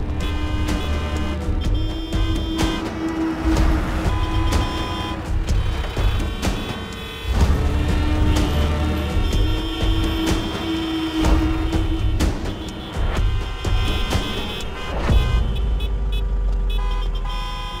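Busy road traffic fills the scene with a steady drone of car engines, repeated horn toots and passing vehicles, loud and continuous throughout.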